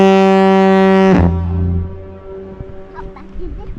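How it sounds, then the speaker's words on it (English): A loud, deep foghorn blast sounds once over the sea and cuts off, its tone lingering and echoing faintly across open water afterward. "that foghorn just like echoes and echoes and echoes and echoes"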